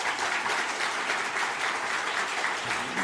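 A standing church congregation at a Sunday worship service applauds visiting missionaries and their families with dense, sustained clapping that stays loud and even throughout.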